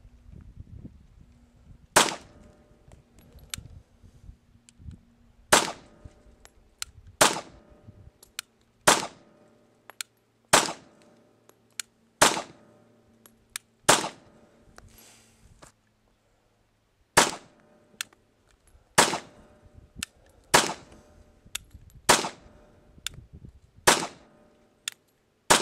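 A West German Sig P220 pistol made in 1992 fires Tula and Federal aluminum-case ammunition: about fifteen sharp, loud single shots spaced a second or two apart, with a brief pause midway and quiet between shots.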